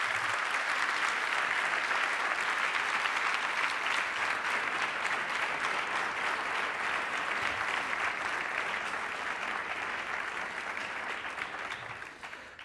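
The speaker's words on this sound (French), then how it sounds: "je vous propose de les applaudir pour leur prestation." Sustained applause from an audience at an award ceremony, steady dense clapping that holds throughout and tapers slightly at the end.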